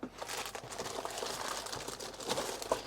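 Crinkling of a plastic bag as an old CD32 games console is lifted from its box, a close, continuous crackle with a few sharper rustles near the end.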